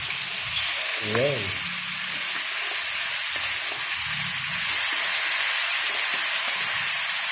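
Chopped chayote (sayote) hits a hot pan for ginisado, giving a steady loud sizzle and hiss that brightens partway through, with someone briefly speaking under it.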